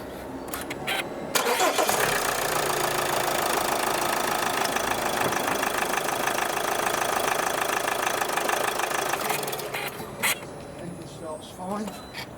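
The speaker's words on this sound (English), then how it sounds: "Okay, we'll start the engine." A Vauxhall Insignia diesel engine cranks and catches, then settles into a steady, loud, clattering idle for several seconds before cutting off, with brief handling noises at either end.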